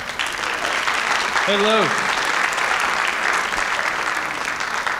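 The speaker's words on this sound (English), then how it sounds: "Please give him a warm round of applause" High school audience applauding to welcome the principal, sustained clapping throughout, with a brief spoken greeting over it partway through.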